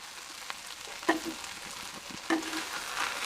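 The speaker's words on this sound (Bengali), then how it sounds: "আমাদের ঢেঁড়সের ভাজি হয়ে এসেছে, এখন আমি চুল বন্ধ করে দেব" Okra frying in a pan, a quiet steady sizzle broken by a few soft clinks and scrapes of a spatula against the pan.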